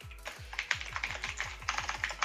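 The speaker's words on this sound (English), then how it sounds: "Yo, stop typing, please." Rapid clicking of a computer keyboard being typed on, a steady patter of keystrokes with a short pause midway, close and fairly quiet, no voices.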